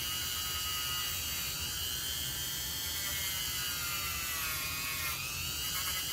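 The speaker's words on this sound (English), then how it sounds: "This is steel, so you need to use the steel brush." A powered steel wire brush scrubs the steel wheel of an Athearn SW1500 model locomotive. It gives a close, continuous high whirring whine whose pitch wavers slightly as the wheel turns against it.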